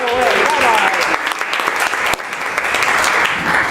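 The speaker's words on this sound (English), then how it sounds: "Let's give them a round of applause." A live show audience claps and cheers in a dense, continuous burst of applause that stays loud and close throughout, with a brief dip partway through.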